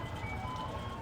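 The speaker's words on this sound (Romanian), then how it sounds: "Uite mașinuța care vinde pâine și batoane." A little van selling bread and snack bars on the street in Ella, Sri Lanka, plays a looping electronic jingle over a low engine hum, brief and fairly loud.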